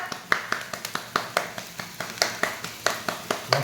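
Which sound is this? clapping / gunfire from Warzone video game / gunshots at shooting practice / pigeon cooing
clapping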